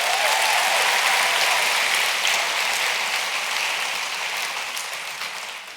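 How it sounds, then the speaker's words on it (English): Sustained applause from a conference audience at an event session, a dense broadband clatter of clapping that stays loud throughout and eases off slightly toward the end. "let's give a round of applause."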